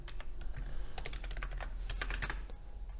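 Rapid clicks from a computer keyboard as a nickname is typed in, sharp irregular keystrokes in quick bursts, close and clear with no talk.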